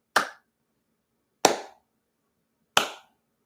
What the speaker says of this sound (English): Give it a golf clap.